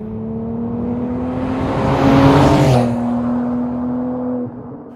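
A 750HP carbon-bodied air-cooled Porsche prototype driving through canyons, its engine droning and building to a louder peak before easing off, then a steady tone that cuts off near the end, heard close with no voices.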